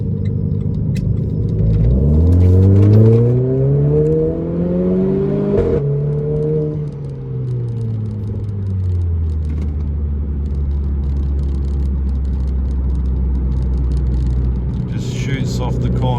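A Renault Clio RS engine in sport mode revs hard as the car accelerates, the rising tone swelling through several gear changes before settling into a steady cruising drone, heard from inside the cabin.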